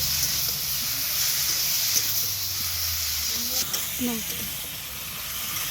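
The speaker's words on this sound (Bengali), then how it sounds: "এবার এর মধ্যে দেবো ভেজে রাখা আলু ওই আলুগুলো মশলার সাথে ভালো করে কষে নেব" Potatoes sizzle in a pan as they fry with spices, giving a steady hiss throughout with a few faint clinks and stirring noises.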